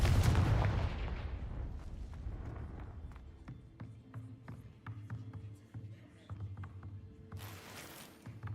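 A Confringo fire spell cast in Hogwarts Legacy on PC, a heavy booming blast followed by a string of sharp cracks and thuds, with a fresh burst near the end, loud and close.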